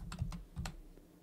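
A few quick keystrokes on a computer keyboard click close and soft while a command line entry is typed, four or five taps in a short burst with no speech.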